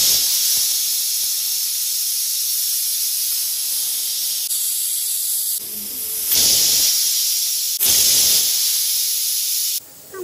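A pressure cooker whistle releases steam as a sustained loud hiss, rising in bursts, with one break near the end.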